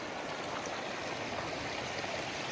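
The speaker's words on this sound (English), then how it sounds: "clean, clear, rushing stream." A clean, clear mountain stream rushes steadily and close by, a dense, even wash of flowing water with no break and no talking.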